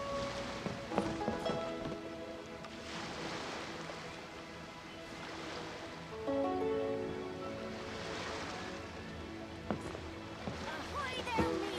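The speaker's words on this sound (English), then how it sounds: "The sound of the ocean wave." Ocean waves in the Genshin Impact video game swell and wash in soft, repeated surges beneath steady game music with melodic tones.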